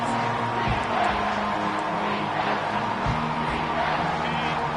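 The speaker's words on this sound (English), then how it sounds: "Third down, and this crowd is tearing the lid off this place." Loud, dense football stadium crowd roaring and cheering steadily on a third-down play, a continuous wash of voices with occasional whoops and low thumps.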